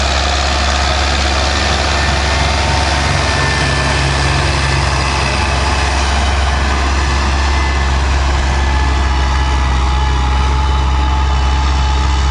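A tractor hauls an ELVORTI Pallundra cultivator across a field, its engine droning at a steady, heavy low rumble that labors under the load throughout, with no voices.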